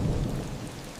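A thunderstorm with steady, persistent rain pours down, a dense wash of rainfall and low rumbling thunder filling the whole stretch with no voices.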